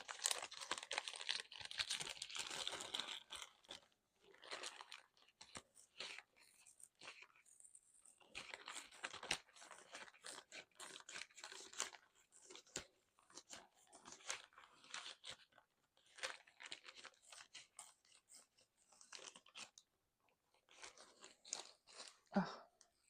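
A pencil turns in a hand sharpener with close, quiet scraping and crunching of wood and graphite. It comes in repeated bursts with short pauses over about twenty seconds and has no talk.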